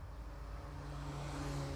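A Citroen Saxo hill climb car approaches on a British Hill Climb Championship course at Doune, its engine note faint and distant, a steady low drone gradually building as it nears.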